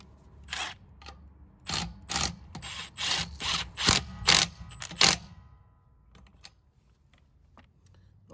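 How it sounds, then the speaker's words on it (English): A torque wrench set to 175 foot-pounds gives a run of sharp ratcheting clicks, about a dozen quick bursts in uneven rhythm, close and fairly quiet against a still background. "Let me go back to 175 foot-pounds on my torque wrench."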